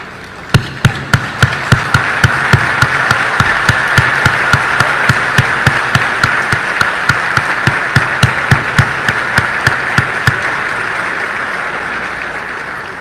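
At a graduation ceremony, a crowd breaks into applause and a steady rhythmic clapping beat cuts through the continuous wash of hands. The beat gradually slows and fades while the broad clapping carries on, with no speech.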